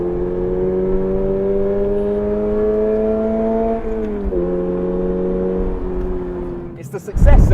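A flat-four sports coupe engine, the GT86's successor, drones steadily at a constant pitch, dips briefly, then holds steady before a sudden louder burst at the end.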